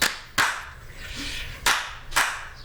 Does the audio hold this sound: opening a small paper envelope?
no